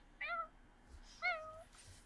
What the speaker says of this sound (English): I don't know what she over here meowing about.